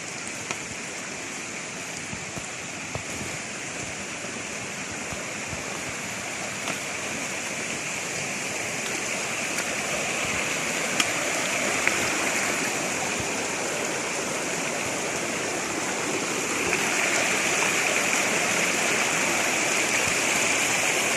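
A rushing stream of water right at the doorstep of a hostel on the Appalachian Trail, a loud, constant roar of flowing water that fills the scene evenly from start to finish with no voices.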